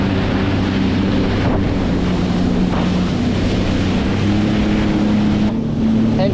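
A Sea-Doo personal watercraft runs across choppy ocean water, its engine droning steadily under heavy wind buffeting and splashing throughout.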